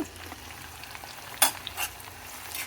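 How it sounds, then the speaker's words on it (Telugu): Onions fry with a pinch of salt in a pan for a green moong curry, making a soft continuous sizzle with a couple of sharp clinks and scrapes as they are stirred. "కొద్దిగా ఉప్పు వేసుకుంటే తొందరగా ఉల్లిపాయలు వేగుతాయి"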